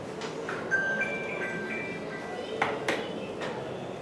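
A phone rings during an English-language meeting, short chiming tones repeating a few times at moderate level over faint room noise, with a couple of sharper clicks near the end.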